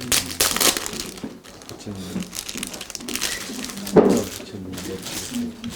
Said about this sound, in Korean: 이제 아무튼 비닐을 빼겠습니다